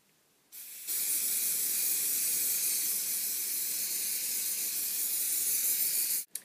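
Hairspray misted onto styled ballroom-dance hair in one long, loud, steady hiss lasting several seconds, starting abruptly after a brief quiet moment and cutting off sharply at the end.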